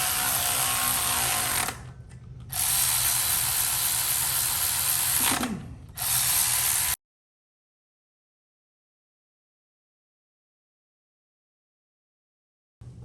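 A ratchet tightens clamps during final engine assembly ahead of a blower install, clicking in two close, steady runs with a short pause between them before going silent.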